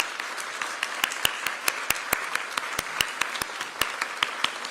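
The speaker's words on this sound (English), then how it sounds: "I would like to ask those folks to stand up so we can give them a round of applause." Applause from the audience at a council swearing-in ceremony, sparse and uneven with distinct individual claps standing out over a steady wash of clapping, moderately loud and heard alone.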